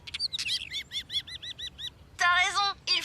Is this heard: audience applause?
no